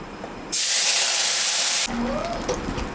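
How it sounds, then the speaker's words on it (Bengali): Water poured into a hot pan of fried fish and oil bursts into a loud, sharp hiss and sizzle for over a second, then settles into softer bubbling. "এখন আমি জল দিয়ে দেব"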